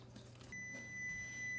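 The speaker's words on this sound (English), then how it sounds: "timer just beeped again" A kitchen timer beeps while Italian sprinkle cookies bake, giving a steady, high electronic tone that holds for about a second over a low background hum.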